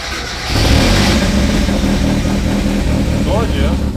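A Mazda Miata engine catches after a brief moment and then runs loud and close, holding a rough, steady idle with slight revving, while people talk over it.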